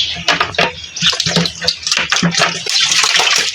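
Water runs hard from a household tap into a basin, a loud steady gush with splashy bursts throughout, nearby and largely alone.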